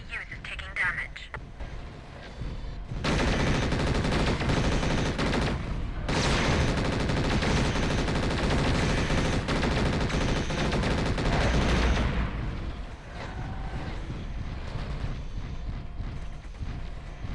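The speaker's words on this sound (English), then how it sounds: "I gotta figure out who's shooting at the AA." Sustained rapid weapon fire from battling mechs in MechWarrior 4: Vengeance, loud and dense, coming in long bursts with brief gaps and voices heard around it.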